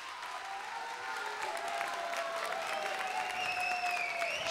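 A studio audience on the Popstar talent show applauds in a steady, even patter of many hands, fairly faint and distant, continuing throughout.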